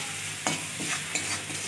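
Spices such as turmeric powder and salt being stirred into frying mutton ghugni in a pan, a soft continuous sizzle with a couple of spoon scrapes cutting through it, close and brief.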